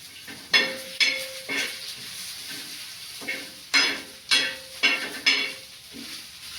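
Coconut and spices dry-roasting in a pan for a traditional Marathi fish curry, with repeated scraping stirs sounding as sharp, close bursts over a soft, steady sizzle.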